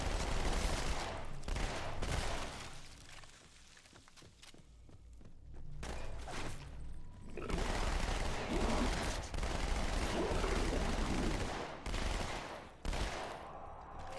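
Dual SMGs firing in the Halo: MCC video game: dense, sustained bursts of rapid automatic gunfire, loud and close, broken by brief pauses and thumps.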